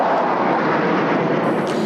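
A loud, continuous roar of fighter jets and helicopters passing over an Israeli independence parade, a dense broadband rumble that holds steady throughout with no talk.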